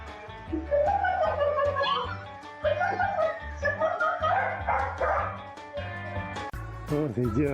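A guard dog barks and yips in quick, uneven bursts close by, with people talking over it.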